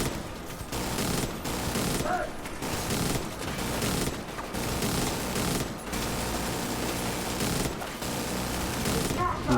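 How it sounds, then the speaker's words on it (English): Gunfire in The Division 2 game combat, sustained bursts of rapid automatic shots in dense, loud volleys with brief pauses between them, no talk heard. "I'm going to shoot him in the backpack."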